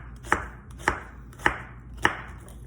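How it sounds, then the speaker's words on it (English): An onion is roughly chopped with a knife on a cutting board: four sharp, close knife strikes land at an even, unhurried pace, with no talking. "I cut part of my onion. So I'm just going to just roughly chop it"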